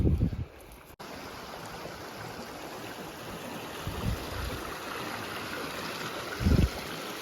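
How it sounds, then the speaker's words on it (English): Scalp Creek, a clear mountain creek, flows steadily with a soft continuous rush and trickle, heard alone with a few low bumps from nearby handling. "I'm on the left bank of Scalp Creek"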